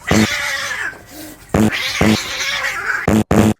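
A cat meows loudly several times in quick bursts, close by, with short pauses between the cries.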